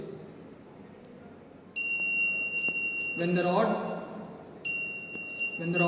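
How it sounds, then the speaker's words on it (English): A high electronic alarm tone from a saline level monitoring buzzer sounds in two bursts, steady and piercing, while a person talks underneath. "then the buzzer and LED will glow and indicate the nurse to go and change the new saline bottle"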